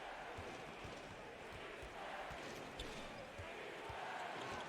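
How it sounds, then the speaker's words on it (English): A basketball crowd at a finals game chanting and roaring for defense, a broad steady wash of voices with a commentator talking over it. "so far, the crowd screaming defense"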